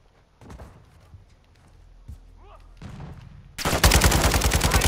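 Call of Duty: Modern Warfare II gunfire bursts in as a loud, rapid automatic volley after a few quieter scattered sounds and a distant shot.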